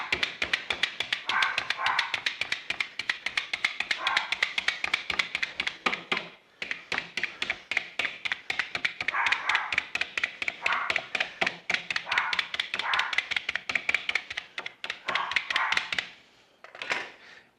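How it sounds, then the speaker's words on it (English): A Jaccard meat tenderizer is punched repeatedly into raw beef ribs, a fast string of sharp taps and thunks with a yappy, dog-bark-like squeak on each stroke, close up, with a short pause partway and near the end. "You notice my Jacard has a dog barking sound to it."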